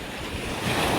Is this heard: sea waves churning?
yes